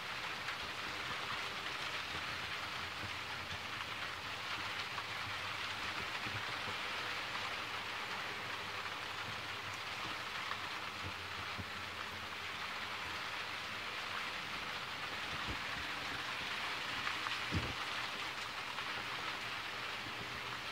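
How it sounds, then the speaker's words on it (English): During a thunderstorm in Crestline, California, heavy rain pours steadily as a dense, even hiss that holds for the whole stretch, with occasional faint knocks and drips but no clear thunder. "heavy rain and thunder just happens"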